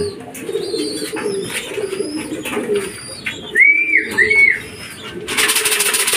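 Racing pigeons at a loft landing board on arrival from a fun race, cooing in low murmurs with short flutters, a couple of clear whistled notes midway, and a burst of wing noise at the end.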